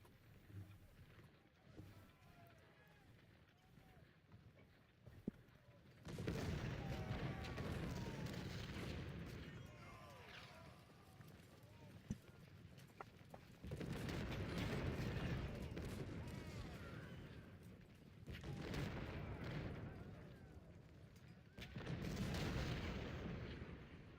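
Cannon artillery fire in Ultimate General: Civil War: repeated heavy booming barrages in long rolling bursts, separated by quieter stretches of battlefield noise, with a voice talking at times.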